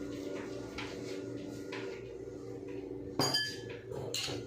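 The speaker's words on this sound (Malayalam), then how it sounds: "ഇനി ഇളക്കി കൊടുക്കണം" A spoon stirs payasam in a metal pot, making a few soft clinks and scrapes over a steady background hum, with a sharper metallic clatter toward the end and no speech.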